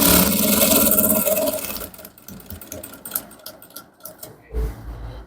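A sewing machine runs loud and steady, stitching a male trouser's rope waistband to the end, then stops, leaving scattered handling clicks and fabric rustle.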